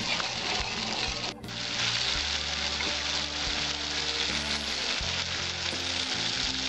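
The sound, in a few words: spice paste being sautéed in a pan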